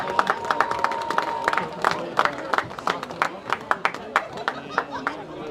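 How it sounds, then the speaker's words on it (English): A crowd at a high school football game claps for the sports officials, scattered sharp hand claps sounding over a public-address voice and distant crowd murmur. "give a big round of applause to all our officials for helping with all of our high school sports"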